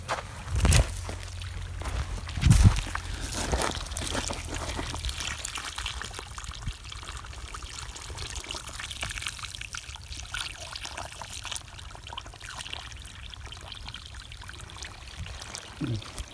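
Water poured by hand onto newly planted watermelon seedlings in soil, a steady trickling stream running for the whole stretch at moderate loudness, with a couple of brief knocks near the start.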